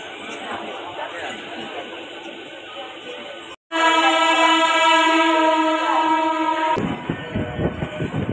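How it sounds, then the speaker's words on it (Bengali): A train pulling into a platform at Howrah station, with a rumbling approach, then a long, loud, steady horn blast after a brief cut, followed by the clatter of wheels and carriages. "এবার দেখো ট্রেন প্ল্যাটফর্মে ঢুকছে।"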